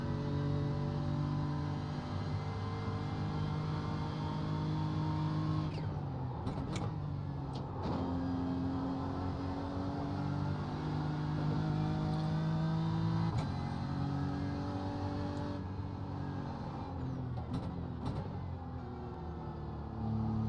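An iRacing race car engine drones loudly and without a break through onboard laps of Bathurst in a 12-hour special event, its pitch rising and falling as it shifts through the gears.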